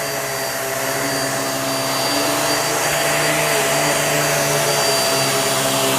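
A Hoover React Quicklift vacuum cleaner runs steadily and loudly throughout, a constant whirring motor drone with a faint whine and no pauses.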